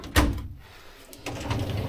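A workshop drawer holding vices or tools slides with a sharp knock at the start, then a rolling scrape as it moves again, close and fairly loud.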